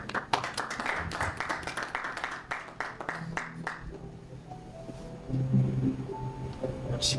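Audience at an NGO general assembly clapping to welcome a speaker, a scattered round of applause that fades after a few seconds into quiet room noise.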